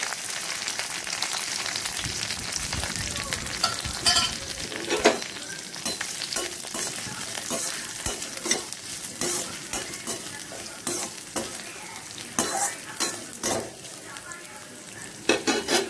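Shallots, dried chilies and urad dal frying in a pan for a Tamil banana stem stir-fry, giving a steady loud sizzle with crackles, pops and spoon scrapes as the mixture is stirred, with no talking.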